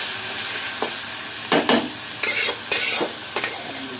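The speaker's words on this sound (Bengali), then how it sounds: "এখন দিয়ে দিচ্ছি লাল শাক।" Red amaranth greens fry with garlic in a pan, giving a soft sizzle broken by several sharp scraping stirs in uneven bursts, close and alone.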